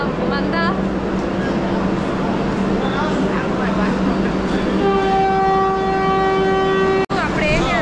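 Vande Bharat train at a station, its loud sustained horn sounding in long steady blasts over the rumble of the platform, with people talking nearby and a sharp click near the end.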